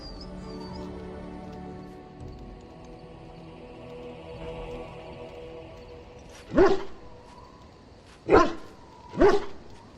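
Three sharp dog barks in the video game Dragon Age Origins, spaced a second or two apart, loud and close over a quiet ambient game background, with no talking.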